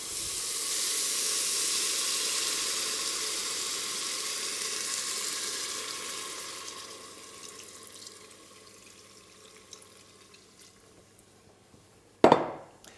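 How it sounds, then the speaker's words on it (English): Red wine poured into a hot pan for a sauce, a strong hiss and sizzle that swells at first and then slowly fades over several seconds, ending with a sharp clatter. "we can add more wine"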